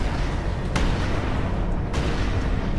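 Weapons on a defence satellite in Space Engineers fire in a steady, continuous barrage, a dense rumbling wash with a couple of sharper bursts standing out, loud and without pause.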